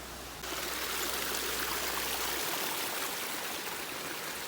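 Water rushes along a mountain stream channel at Sundarijal, Nepal, a loud, steady broadband rush with no pauses, close to the listener, with a low hum fading out early on.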